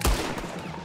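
Gunfire in Red Dead Redemption 2 during a wagon shootout: one sharp, loud shot at the start followed by a rattling, dense burst of firing that stays busy through the short moment.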